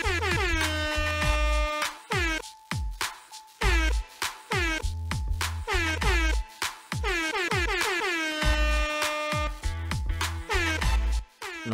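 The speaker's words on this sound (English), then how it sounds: "is this entire track air horns?" Repeated loud air-horn blasts, stacked and rhythmic, run through a hip-hop mixtape track with a booming beat, filling the whole stretch with no talking.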